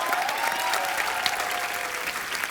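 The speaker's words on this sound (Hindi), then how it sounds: "जोरदार तालियां एक बार राघव के लिए।" A studio audience at a Hindi comedy show with Sunil Grover applauds the guest Raghav in loud, dense, steady clapping with no speech over it.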